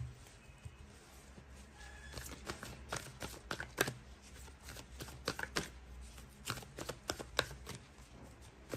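A tarot card deck being shuffled by hand, a run of crisp riffling flicks and taps in irregular bursts, close and fairly quiet over a low background hum, with no talking.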